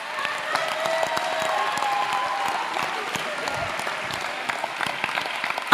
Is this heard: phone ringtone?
no